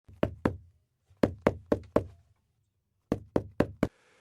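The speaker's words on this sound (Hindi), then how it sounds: "कोई दरवाजा खटखटा रहा था।" Three bursts of sharp knocks on a door, two, then four, then four, with short pauses between groups, close and loud in a quiet room.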